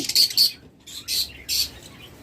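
A mynah bird gives sharp, shrill calls in short bursts, two quick ones, a pause, then two more, loud and close.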